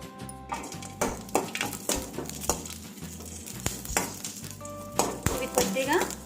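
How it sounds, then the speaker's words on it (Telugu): Green chillies frying in a little oil on a stovetop, a sizzle under repeated stirring and scraping of a utensil against the pan, with some clinks. "స్టవ్ వెలిగించి కొద్దిగా ఆయిల్ని వేసి పచ్చిమిర్చిని వేయించుకుందాం"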